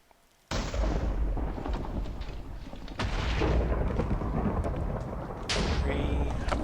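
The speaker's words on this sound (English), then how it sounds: "How many lightning strikes does it take?" Repeated lightning strikes in modded Minecraft land as loud, broad thunderous booms, with sharp cracks at roughly half a second, three seconds and five and a half seconds, each rolling into sustained rumble.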